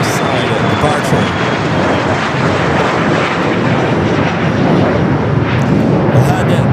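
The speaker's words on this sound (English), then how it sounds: "United Flight 2096, the Dreamliner number 3 now for Southside departure" A United Boeing 787 Dreamliner jet departs from the south side at LAX, its engine roar a loud, steady, broadband rumble filling the whole stretch with no break, and faint radio-style talk in the background.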